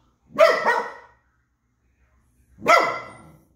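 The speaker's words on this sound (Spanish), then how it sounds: "conociendo los primeros ruidos de sus ladridos" A puppy barks twice, close and loud. The first bark comes as a quick double yap, then a pause before a single bark.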